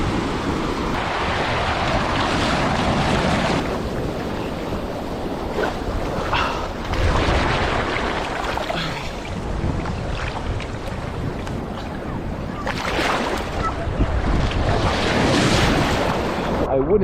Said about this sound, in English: The waves are quite strong